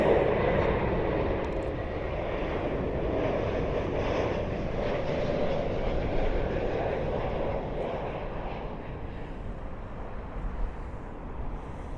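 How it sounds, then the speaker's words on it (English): An Aegean Airbus A321neo lands at London Heathrow, its engines a steady, broad roar held at an even level throughout, with no speech. "our next contestant is an Aegean A321neo."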